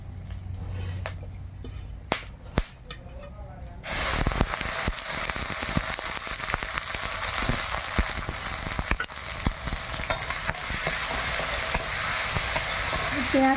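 Bay leaf, dried chilli, cardamom, clove and cinnamon drop into hot oil in a village kitchen, a few quiet clinks first, then a sudden loud, steady sizzle with crackles and pops.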